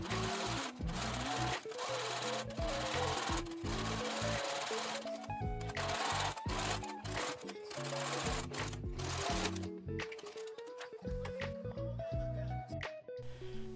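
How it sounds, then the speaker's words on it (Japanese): A sewing machine topstitches a sleeve seam with the allowance pressed toward the sleeve, running loud and close in long continuous whirring bursts broken by brief pauses, with no talking. "縫い代を袖側に倒してアイロンをかけたら2ミリ幅でステッチを入れます。"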